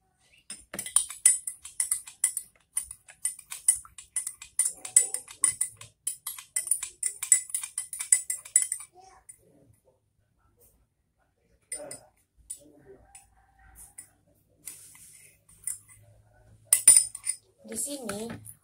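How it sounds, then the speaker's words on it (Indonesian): Oil and water being stirred together in a container, giving quick clinking, scraping taps for several seconds, then scattered quieter clinks after a pause. "Setelah itu kita aduk."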